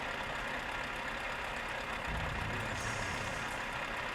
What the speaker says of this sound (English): this sounds more like a Volvo engine now